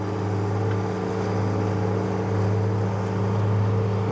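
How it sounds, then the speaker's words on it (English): A tractor straining hard through a muddy beet field, its engine a steady, loud low drone with a heavy rumble that holds under load for several seconds, with no voices. "that's a hard pull for that tractor"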